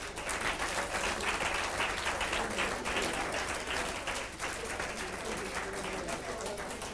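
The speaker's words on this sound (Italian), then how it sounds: "Applauso agli amici che ci seguono da casa." Studio audience applause on an Italian variety show, dense clapping sustained for several seconds with a slight fade in the second half, voices faintly mixed in.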